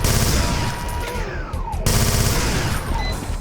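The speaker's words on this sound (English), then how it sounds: "Right click is to have the chain spinning, and that enables you to start firing immediately." A chain gun fires in Brutal Doom, a loud, dense stream of rapid shots that runs almost unbroken across the stretch with only a brief dip midway.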